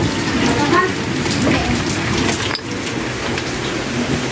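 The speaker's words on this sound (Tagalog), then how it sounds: "Maulan na naman." Heavy rain pours outside a billiard hall, a loud dense steady patter on surfaces that fills the whole stretch, with faint talk beneath it.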